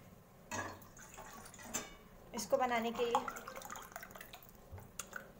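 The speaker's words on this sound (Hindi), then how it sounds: "यहाँ मैं ले रही हूँ 2 कप पानी" Two cups of water are poured into a pot at home to boil for a homemade skin-care remedy, giving a brief splashing fill with a rising tone. Someone talks before and around it, and a few soft clinks are heard.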